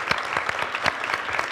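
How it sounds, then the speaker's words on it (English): Brief burst of audience applause at a CEO interview event, dense clapping with a few sharper individual claps standing out, lasting just over a second. "How about a round of applause for Tom and the zoo?"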